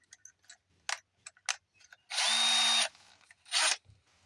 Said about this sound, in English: We'll go to the larger drill bit.